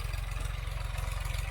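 A tractor engine runs close by in a steady, rhythmic chug at idle, a brief low, pulsing throb with no voices.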